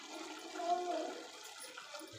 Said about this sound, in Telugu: అలా కలిసిపోకూడదంటే ఇప్పుడు వాటర్ పోసుకోవాలి.